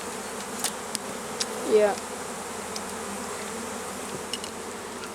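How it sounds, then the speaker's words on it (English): A swarm of honey bees buzzes steadily around a new hive as brood is put in, a close continuous drone with occasional individual bees passing; a voice speaks one short word. "we're messing with a bee swarm"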